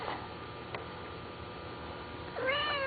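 Kittens in a barricaded bedroom area make one short, close meow near the end, following steady quiet room hum with faint soft rustling.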